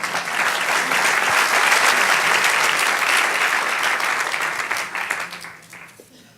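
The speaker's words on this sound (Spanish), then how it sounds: "Dale un aplauso al Señor" A church congregation applauds in praise: dense, loud, continuous clapping that holds steady for several seconds, then thins out and fades near the end.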